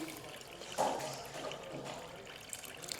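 Warm water poured into a bowl on a kitchen scale for sourdough, a soft, faint trickle and splash that swells briefly near the start, then continues quietly.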